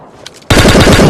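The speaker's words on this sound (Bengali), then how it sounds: "ওখান থেকে ফায়ারিং হচ্ছে।" Rapid automatic gunfire in PUBG Mobile, a loud sustained burst of shots that cuts in abruptly after a quiet moment and runs steadily to the end.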